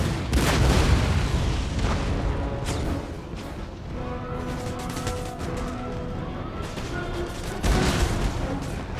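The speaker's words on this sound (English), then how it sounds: "Now I'm going to start firing canister shot" Cannon fire booms repeatedly in a video game battle, artillery firing canister shot in Empire Total War, with dense overlapping blasts and rumbling gunfire across the whole stretch, heaviest at the start and near the end.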